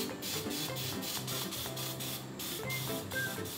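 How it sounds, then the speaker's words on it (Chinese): An oil sprayer mists a little oil onto chicken before air-frying, producing a close, continuous hissing spray broken by quick rhythmic pulses, with no voices. "我们稍微的喷一点点油"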